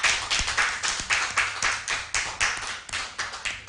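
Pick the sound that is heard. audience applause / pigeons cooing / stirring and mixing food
audience applause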